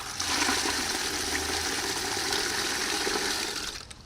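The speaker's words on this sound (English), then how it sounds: "And then I fill up a 5-gallon bucket." Rain barrel water pours into a 5-gallon bucket in a steady, close, hissing gush that holds for about four seconds before tapering off.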